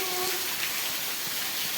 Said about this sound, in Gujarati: અત્યારે તો વરસાદ ચાલુ થઈ ગયો છે ફૂલ